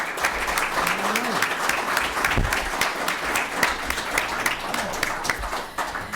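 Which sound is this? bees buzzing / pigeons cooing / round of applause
round of applause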